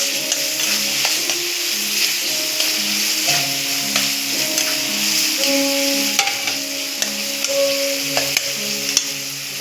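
Finely chopped capsicum fries in a pan for masala pav bhaji, a constant sizzling hiss with occasional stirring clicks beneath steady background music.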